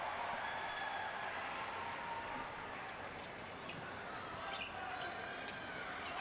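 Table tennis rally in a women's Class 10 singles match at the Rio 2016 Paralympic Games, light rapid ball clicks heard faintly over a steady arena crowd murmur before the point ends on a forehand winner.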